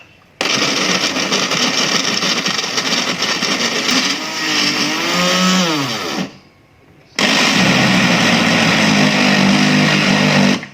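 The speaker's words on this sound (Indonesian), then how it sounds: "Sekarang ini akan saya blender hingga halus." A kitchen blender grinds meatball ingredients with a spoonful of cooking oil, roaring loud and steady with pitch changes as the load shifts, then stopping briefly before starting again at full power.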